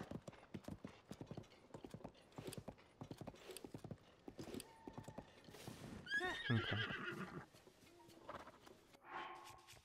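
A horse in the video game Zelda Tears of the Kingdom trots with rapid clip-clop hoofbeats, then neighs loudly, followed by a few brief game sounds; one short spoken word is heard.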